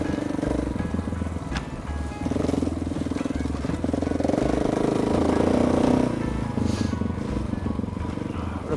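A KTM 690 single-cylinder motorcycle rides through trees on Malcolm Island, its engine droning steadily and swelling louder mid-ride before easing back, with wind noise throughout.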